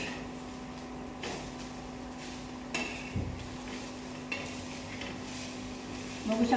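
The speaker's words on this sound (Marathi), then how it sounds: "आता ना मस्त तेल टाकून तव्यावरच भाजी बनवणार आहे मी" A vegetable fries in oil on a tawa griddle, a soft, faint sizzle under a low hum, punctuated by a few sharp scraping and stirring clicks from a spatula.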